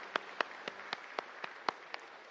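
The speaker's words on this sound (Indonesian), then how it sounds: "Mari kita berikan tepuk tangan untuk kemuliaan Tuhan." A church congregation at a Sunday service in Samarinda claps in praise. About eight evenly spaced, unison claps sound faintly in a steady rhythm.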